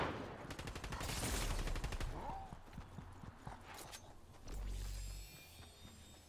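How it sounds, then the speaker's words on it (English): Bursts of gunfire from a shooter game, Halo Infinite or PUBG, crack in quick rhythmic strings, with a deeper thump midway and a speaking voice mixed in quietly. "Why you gotta shoot at me?"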